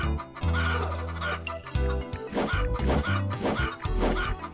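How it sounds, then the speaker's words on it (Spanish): Chickens in the PlayStation game Alundra clucking in repeated short bursts over steady looping game music, close and fairly loud. "aquí no le podemos pegar a la gallina."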